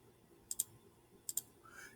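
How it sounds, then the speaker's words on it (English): A computer mouse gives two quick double clicks, close and crisp, about three-quarters of a second apart in an otherwise quiet room. "So I'm going to click here."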